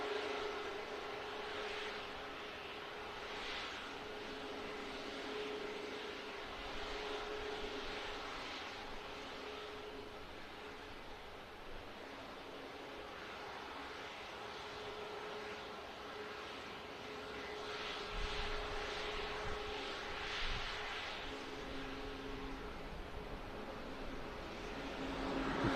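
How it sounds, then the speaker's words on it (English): An EasyJet airliner departing for Mykonos gives a steady, distant engine roar that swells and fades slowly for nearly half a minute, with no voices. "Finally, the EasyJet for Mykonos is on its way."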